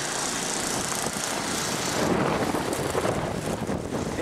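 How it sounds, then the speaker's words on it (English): Wind blowing steadily during a 2013 blizzard, a constant broadband roar that swells slightly midway, loud and close against the microphone with no talk. "And the wind is blowing."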